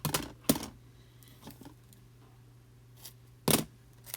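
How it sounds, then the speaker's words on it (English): Scissors snipping pieces of packing tape for a glittery craft card, a few sharp isolated cuts spaced apart, close and crisp against a quiet room hum. "So I'm just cutting pieces."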